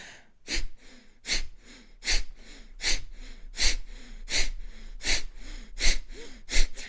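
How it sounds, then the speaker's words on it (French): Rapid, forceful puffs of breath through the nose during bellows breathing, about ten evenly spaced sharp exhalations in a steady rhythm, close and loud. "on inspire profondément par le nez et avec plein de petites expires par le nez rapides"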